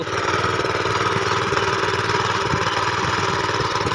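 A small farm power weeder engine runs steadily in a field, close and loud, with a throbbing mechanical rattle that holds an even pace throughout.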